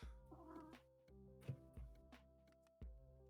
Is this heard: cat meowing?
yes